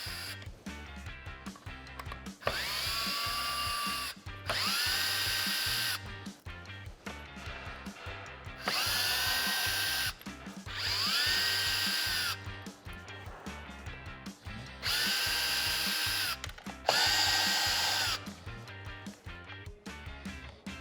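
A power drill backs screws out of the windshield channel on a Jeep Wrangler JK two-door soft top, running in repeated whining bursts of a second or two, separated by short gaps.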